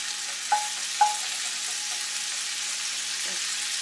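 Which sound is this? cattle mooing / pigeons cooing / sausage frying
sausage frying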